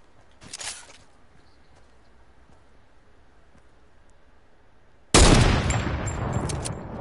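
Gunfire in a PS4 shooter video game: a short burst near the start, then a loud sustained volley of rapid shots over the last two seconds.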